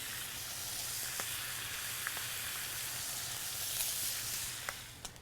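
Thick-cut smoked bacon sizzles and fries in a pan with a steady, dense hiss. A few faint pops and crackles sound over the hiss, and no one talks.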